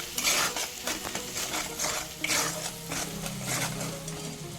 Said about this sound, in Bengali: মশলাটা ভালো মতো ভেজে নিচ্ছি